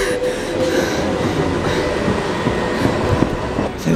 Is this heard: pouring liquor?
no